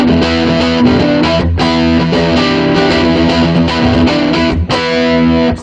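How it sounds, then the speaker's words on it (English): A loud, heavily distorted electric guitar through a distortion pedal with its tone control bypassed plays sustained chords and notes with thick retro saturation, continuous and up front, with no speech. "Let's hear what it does to the distortion."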